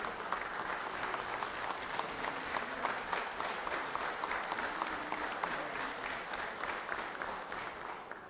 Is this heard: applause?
yes